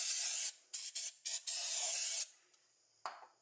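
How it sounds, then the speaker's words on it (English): Brake cleaner sprayed into an Isuzu wheel hub during bearing regreasing, heard as close, hissing aerosol bursts: one long blast, then several short ones and another long one, followed by a final brief squirt. "Now I'm just going to use some brake cleaner, just get all of that residue out and any last little bits and pieces."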